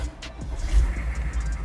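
A turbocharged 2000 Hummer H1 diesel idles steadily, its low engine rumble close and even throughout, with no one talking.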